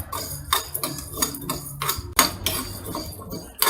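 Roasting curry spices are stirred in a pan with a utensil, producing repeated scraping clinks and taps in an uneven rhythm, close and moderately loud.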